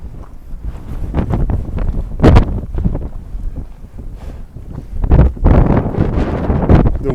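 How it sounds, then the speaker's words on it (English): Strong wind rips across frosty mountain peaks on the Arizona Trail, roaring and buffeting the microphone in loud irregular gusts with no voices. "The wind's ripping over some very frosty mountains"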